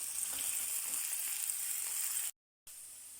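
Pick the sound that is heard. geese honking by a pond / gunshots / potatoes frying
potatoes frying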